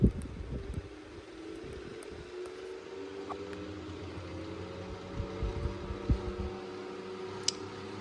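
Two Pifco desk fans, a 1970s Spinair 8-inch and a 1980s 8.5-inch model, run together on high while oscillating, giving a steady whirring hum with faint mechanical ticks and a few small knocks.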